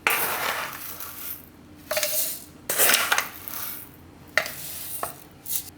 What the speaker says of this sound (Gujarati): તો આ ખાંડ દળી લીધી આપણે આ રીતની, એને આમાં નાખી દઉં